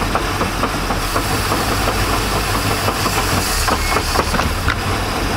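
A 1999 Chaparral 1930 SS boat engine under restoration runs steadily and loud, with a low idle-like drone and some hiss and knock through the whole stretch, without a clear rise in revs.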